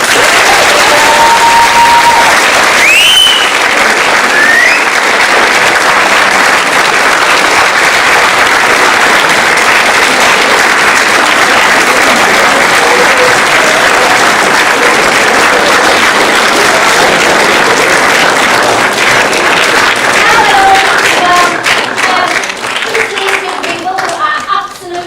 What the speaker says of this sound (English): I expect the biggest round of applause